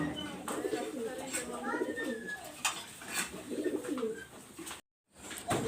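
Pigeons coo repeatedly in soft, rolling bursts close by, some overlapping, with light chirps and a brief dropout near the end.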